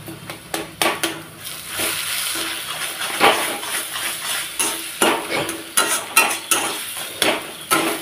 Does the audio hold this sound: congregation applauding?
no